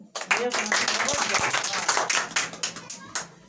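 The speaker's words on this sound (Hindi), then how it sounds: "हाँ भाई इसके लिए ताली बजा दो।" Students in a Hindi grammar class clap for a classmate, a short burst of close, uneven hand claps with a teacher's voice talking over them.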